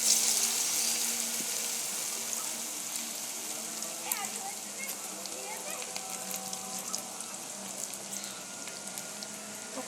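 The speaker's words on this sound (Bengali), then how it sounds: "পকোড়াগুলো ভেজে নেব" Potato pakoras fry in hot oil with a steady, close hiss and crackle, continuous throughout, with faint background sounds.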